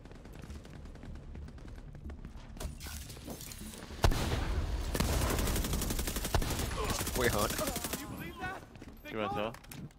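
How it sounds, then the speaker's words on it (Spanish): Rapid bursts of video game gunfire, an automatic shotgun blasting in quick succession, loud and punchy, with a voice talking at moments. "escopeta automática"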